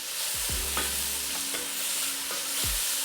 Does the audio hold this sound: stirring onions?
yes